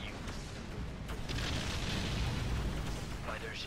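Missiles launched in the space game X3: Albion Prelude, a sustained rumbling whoosh and boom that swells through the middle and fades, with a brief rising tone at the end.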